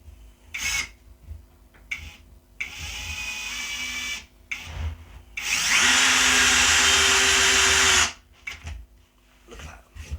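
A Worx WX177.9 brushless switch driver drives a 4x40 screw, giving a loud steady whirring buzz of about three seconds after a few shorter bursts, with no talking.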